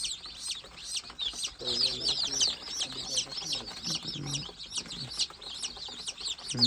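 Many gavran chicks chirp in a dense, continuous high peeping, mixed with low clucks from older birds and faint background voices.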